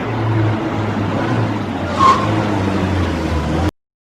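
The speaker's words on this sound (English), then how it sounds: "Car." A car driving with its tires skidding: a steady engine rumble throughout, with a brief sharp tire squeal near the middle, heard alone before cutting off abruptly.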